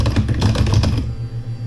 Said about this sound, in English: even if I type, there's no lag in the typing.